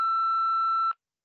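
A single steady electronic voicemail beep sounds after a recorded phone greeting, one clear sustained tone that cuts off abruptly, with no talking.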